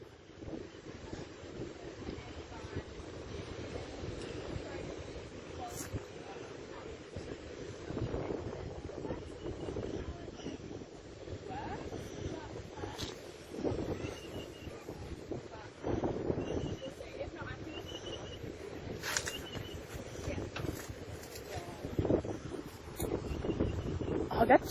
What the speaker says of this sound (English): The sun, a beautiful breeze blowing.